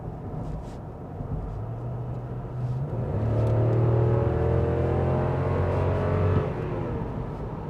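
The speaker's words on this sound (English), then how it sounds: "Makes a good meaty tone to the V8 engine as well when you do stomp on it" V8 engine of a 2008 Lexus LX 570 SUV with 160K miles, a deep meaty growl swelling as it accelerates under a heavy throttle, then easing back, heard from inside with no talk.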